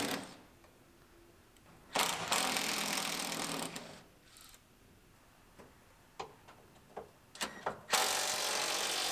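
Ratchet wrench backing out the bed bolts on a 2018 GMC Sierra Denali pickup, giving two long bursts of rapid clicking, then a string of sharp separate clicks and a final burst, close and fairly loud.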